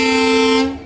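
A diesel locomotive of the Tutari Express sounds a single loud, sustained horn blast at close range, ringing steadily before tapering off.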